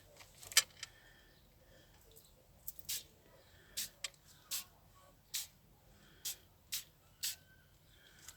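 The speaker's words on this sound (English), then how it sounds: "So I'm just going to spray this." A series of short, crisp spray bursts of ink onto a handmade card, about eight of them, spaced roughly half a second to a second apart in a quiet room.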